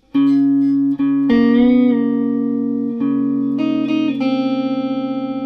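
A guitar plays a slow sequence of struck chords and bass notes, each left ringing clearly, with a slight wavering tremolo at the close; no speech.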